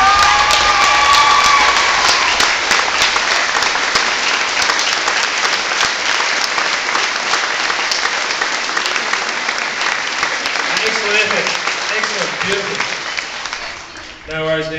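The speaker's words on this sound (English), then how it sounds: "we should all stand up and a standing ovation for this marvellous young lady" A live audience gives a standing ovation to a 12-year-old singer: loud, dense, sustained clapping with cheering and shouting voices, tapering off near the end.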